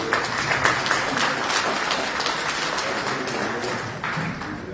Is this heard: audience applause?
yes